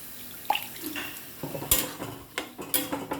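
Water is sprinkled onto papaya cooking in a pan, with soft splashes and light clinks of a utensil against the pan. Short scattered knocks come at an uneven pace, quiet and close, with no speech.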